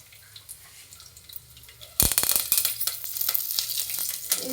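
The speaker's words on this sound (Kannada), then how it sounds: "ಎಣ್ಣೆ ಹಾಕಿದ್ವಿ ಫಸ್ಟು ಬಾಣಲಿಗೆ ಆಫ್ಟರ್ ಇದು ಇದಾಕಿದ್ವಿ ಬೆಳ್ಳುಳ್ಳಿ ಜಜ್ಜಿರೋ ಬೆಳ್ಳುಳ್ಳಿ ಆಮೇಲೆ ಸಾಸಿವೆ ಆಮೇಲೆ ಮೆಣಸಿನ್ಕಾಯಿ" Crushed garlic, mustard seeds and green chilli hit hot oil in a pan for a lentil sambar, erupting into a sudden loud, crackling sizzle partway through that keeps spitting and popping close up.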